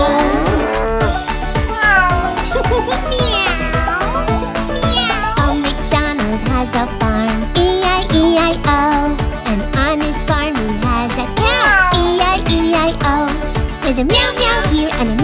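In a bouncy children's nursery-rhyme song about a farm, repeated meows ring out in quick rhythm over a steady bass beat and bright backing music, sung or voiced as imitations of a cat.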